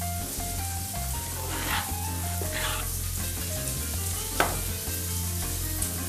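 Feta cheese mix sizzling in a hot pan, a steady close crackle with a few brief scraping tosses and one sharp clack partway through.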